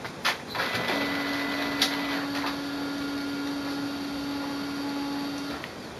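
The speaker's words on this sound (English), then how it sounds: "The printer will detect and pull in the paper." An HP Color LaserJet Pro M283 laser printer feeds an A5 sheet from tray 1, giving a steady mechanical whir with a sustained motor tone and a few clicks, close and alone.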